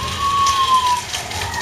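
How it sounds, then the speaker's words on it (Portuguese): Steady rain patters and hisses across the whole stretch, a broad wet wash with no voices over it. "Olha a chuva."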